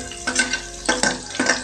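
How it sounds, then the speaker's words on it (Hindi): Chopped onion and chilli stirred in hot oil give short bursts of sizzling and scraping, three quick surges of frying noise close by, with no talk. "तो अभी जो है तेल गर्म हो चुका है, तो हम लोग सबसे पहले डालेंगे ये काटा हुआ प्याज और मिर्चा"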